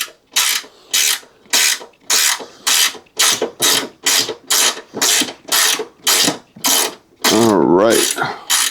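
Ratchet wrench loosening a 12 mm bolt beside a car fuse box during a hood strut install, a steady run of about fourteen loud rhythmic clicking bursts close up, ending in a brief whirring spin as the bolt frees.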